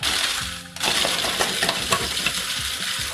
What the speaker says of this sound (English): I'm gonna blitz them in the food processor this time rather than cutting them or chopping them.